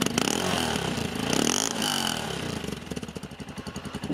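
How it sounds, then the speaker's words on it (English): A dirt bike engine with its stock exhaust runs close by at a moderate volume, its tone shifting through light revs before settling into a steady, pulsing idle toward the end. "The stock has a good sound, so it's not noisy, it's not too loud, it's not quiet either"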